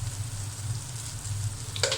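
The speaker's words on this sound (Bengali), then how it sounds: "মশলাটা ভালো করে কষিয়ে দেব" Garlic and cumin spice paste frying in oil in a pan, a steady close sizzle with a low hum beneath and a brief burst of stirring scrape near the end.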